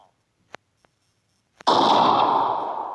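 A pistol fires in a video game gun mod: a couple of faint clicks and a light shot come first, then a sharp, loud gunshot whose bright, ringing tail hangs on to the end.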